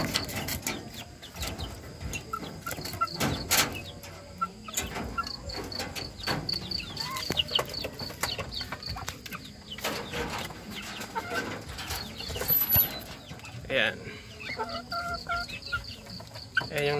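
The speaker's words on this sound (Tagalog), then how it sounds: "Ayan yung Rhode Island Red." Young Rhode Island Red and Thompson chickens, about seven weeks old, cluck and chirp on and off alongside hens, with steady cricket or insect buzz in the background and no talking.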